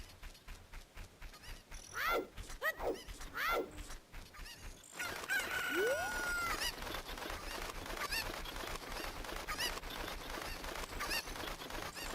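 Video game chickens honk and squawk in a few short calls, then a busier stretch of game sound effects and a rising whistle-like cry fills the rest, moderately loud with no talking.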